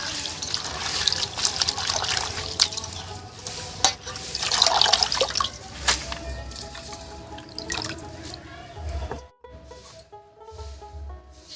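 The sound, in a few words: washing cut spinach greens under running tap water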